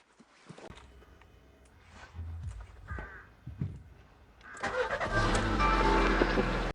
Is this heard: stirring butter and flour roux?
no